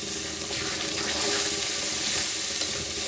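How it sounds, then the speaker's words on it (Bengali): A spoon stirs a turmeric, chili and coriander paste frying in hot oil for chicken curry, giving a steady close sizzle with scraping strokes throughout. "আমি একটু মিশিয়ে নিই"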